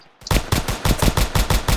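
Rapid gunshots ring out in a Roblox shooting game, with a quick run of loud, evenly spaced cracks following a short quiet start, close and alone.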